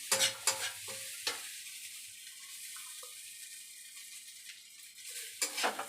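Fried Maggi noodles with eggs stirred in a pan, a few scraping spatula strokes at the start and end over a faint steady sizzle, close and fairly quiet, no voices.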